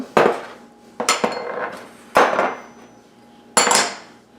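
Sugar, rice vinegar, plum sauce, cornstarch and salt are combined in a bowl for sweet and sour pork sauce, with four sharp clinks of a utensil against the bowl spread out in a quiet kitchen.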